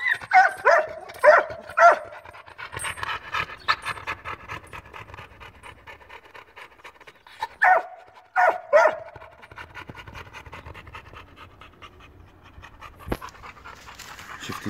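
A dog pants, whimpers and yips in bursts with occasional barks while playing, close and fairly loud, with quieter stretches of breathing between the bursts.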